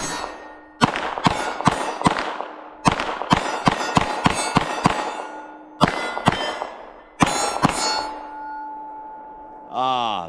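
A Glock 19 pistol fires in extreme cold, a string of sharp, ringing shots in uneven bursts with gaps between volleys, loud and close with a metallic clang after each report.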